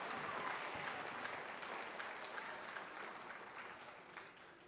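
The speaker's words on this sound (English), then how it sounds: "one more round of applause for the creators of MechaCon, Peter Barnes and John Russo" Audience applause at a convention opening ceremony, dense clapping from a large crowd that holds steady and slowly fades, heard alone without speech.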